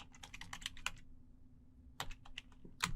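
Keys clatter on a computer keyboard as a command is typed into a Kali Linux terminal, a quick burst of clicks, a pause, then another run of close, crisp keystrokes.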